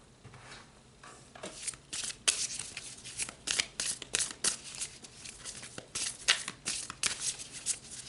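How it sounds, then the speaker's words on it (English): Tarot cards shuffled by hand in a quiet room, a steady run of crisp riffling slaps and papery flicks that swell into louder bursts, with no talking over them. "So let's pull some more cards."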